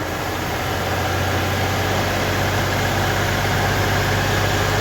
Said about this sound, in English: the engine's shaking a little bit because it's wanting to stall it out